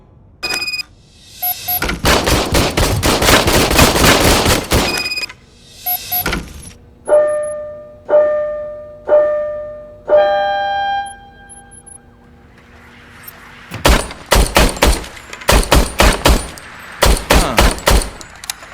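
Gunfire from an old police service gun in RoboCop: Rogue City: loud, close bursts of rapid shots, broken by a few separate ringing tonal blasts, then more rapid bursts.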